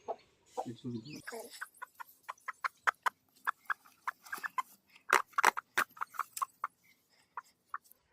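A village brooding hen settled on fifteen eggs in sand clucks in a long series of short, sharp, close pulses at an uneven rhythm after a brief burst of talk at the start.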